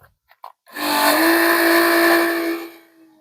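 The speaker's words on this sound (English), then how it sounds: "And so this acts as a pump, and this particular model of macerator will pump" An RV macerator pump draining the gray tank whirs up after a few faint clicks, holding a steady, moderately loud buzzing whine with a constant motor tone for about two seconds before winding down.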